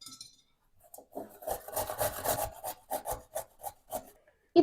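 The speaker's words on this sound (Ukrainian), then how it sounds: "а моркву натру на велику терку" A carrot is rubbed against a coarse grater in steady back-and-forth rasping strokes, close and fairly quiet, with no voices.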